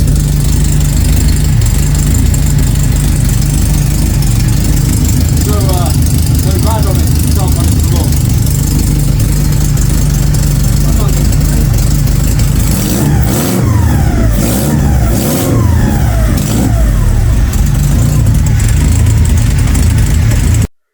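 A Ford Fiesta XR2 4x4 with a blown exhaust idles roughly, then revs hard several times. The engine has no intercooler and no airflow meter fitted. It is loud and close, with rasping blips near the end.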